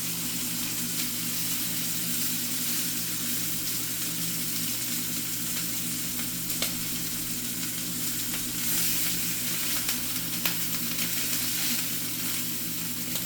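Sweet Thai chili pork tenderloin sizzles in a hot pan with an even, continuous hiss, faint crackles and a low steady hum beneath it, without any talking.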